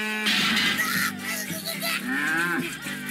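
Cartoon cows moo loudly in the video game Rayman Raving Rabbids, with several long, drawn-out lowing calls that follow one another closely and sound near and clear, with no voices over them.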